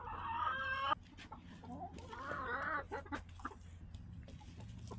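Silkie chickens cluck and call inside a coop, a crowing-like cry up front then softer chatter, faint and close with light background noise.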